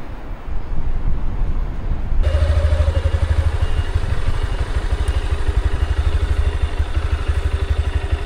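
A Honda CB200 motorcycle idles with a steady rhythmic engine chug, close by and fairly loud, while wind buffets the microphone.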